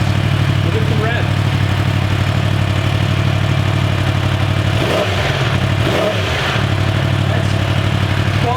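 A brand-new Yamaha R1 sport motorcycle engine runs loud and close, idling with a steady throb, then revs sharply twice in quick succession before settling back.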